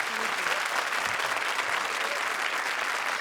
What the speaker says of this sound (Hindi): जोरदार तालियां एक बार फिर